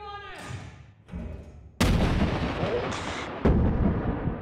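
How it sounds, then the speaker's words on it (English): Two loud grenade blasts go off in a video game shooter, a heavy boom followed by a long rumbling tail and a second sharp blast near the end, after some quieter thuds and a voice at the start. "They instantly threw two grenades at me"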